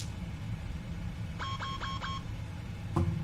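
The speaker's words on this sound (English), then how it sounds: "Why did it make that noise? Beep, beep" A PMDG flight simulator cockpit sounds a short run of four quick electronic alert beeps, fairly faint over a low steady hum, followed by a single brief tone near the end.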